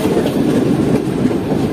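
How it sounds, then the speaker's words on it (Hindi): A private passenger train waits at signals on a Pakistani rail line, its steady dense rumble filling the air loudly and evenly for a short stretch with no voices. "ये भी एक प्राइवेट ट्रेन है जो कैश जमीन कंपनी के पास अपने सिग्नल्स का इंतज़ार कर रही है।"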